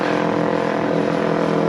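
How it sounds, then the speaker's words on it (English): A very noisy motorbike passing close by on a public holiday near Parramatta Park, a loud, steady engine roar that fills the short moment without voices. "there's a very noisy motorbike going past"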